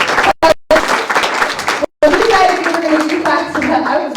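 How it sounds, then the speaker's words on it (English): An audience applauds at a community presentation, with full, close clapping and a few brief dropouts, and scattered voices rising under the noise toward the end. "Please give a big round of applause to them."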